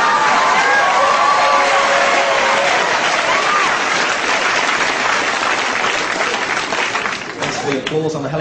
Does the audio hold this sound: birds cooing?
no